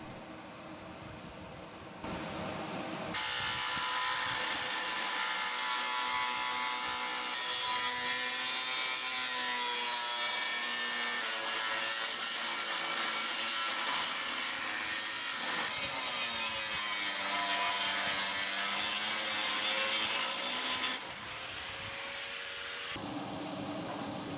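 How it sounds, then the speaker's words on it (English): Sheet metal being trimmed on a 1976 Ford F100 truck restoration, a steady, close, continuous rasping cut running for about twenty seconds with shifting whine-like tones, no talk. "got to do a little more trimming here on this metal"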